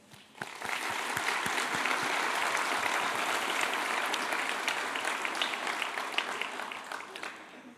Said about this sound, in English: So I wanted to give another round of applause for her and the faculty and the invisible moments that often go unnoticed.